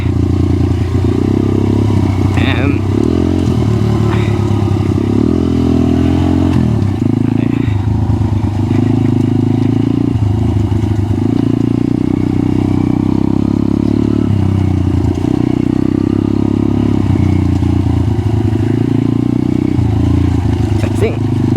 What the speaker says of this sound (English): So first gear in these pit bikes is always low.